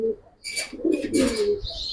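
An army-generation pigeon in a loft coos close by in a low, rolling burr, joined by brief higher bird calls and chirps from nearby birds.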